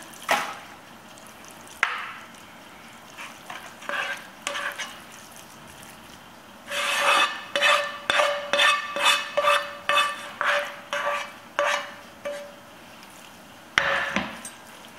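Beef mince is scraped and spread around an olive-oil-sprayed pan with a utensil, giving a few scattered knocks followed by a quick run of rhythmic scraping clatters, then isolated taps, with no talking.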